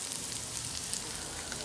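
Onions in a pan for a large family's spaghetti sauce sizzle softly and evenly in a brief, quiet stretch with no voices.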